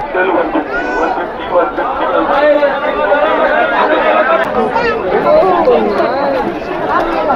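Dense crowd chatter fills the Bandra Mount Mary fair in Mumbai, many overlapping voices forming a loud, close hubbub that never lets up.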